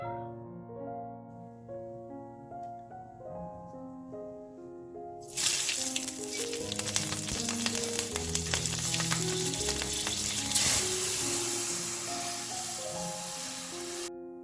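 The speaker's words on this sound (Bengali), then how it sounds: "তেলের মধ্যে একটুখানি কালো জিরে আর কাঁচা লঙ্কা ফোড়ন দিয়ে দিয়েছিলাম" Nigella seeds and green chillies hit hot oil in a wok-style pan, a sudden loud crackling sizzle erupting after a quiet start with sustained tones beneath, spitting steadily until near the end.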